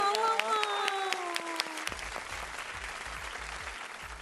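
A television studio audience on a fashion competition show breaks into applause after a bright tonal passage, the clapping fairly faint and scattered at the close, with voices over it.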